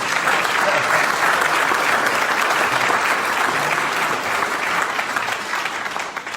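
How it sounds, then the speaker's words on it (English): Crowd applause at a speaking event, steady and loud throughout, with dense clapping from a large audience, easing slightly toward the end. "Y'all give them a round of applause."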